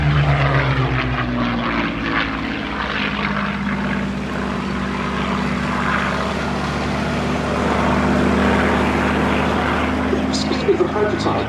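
A Curtiss P-40F Warhawk at the Duxford Battle of Britain Airshow drones overhead with a steady propeller engine roar, loud and sustained while a voice talks over it.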